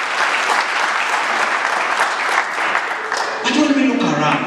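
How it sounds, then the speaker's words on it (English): A church congregation claps for Jesus Christ during a Sunday sermon, a dense, steady wash of applause that fills the whole stretch, with a voice breaking in near the end. "Clap for Jesus Christ."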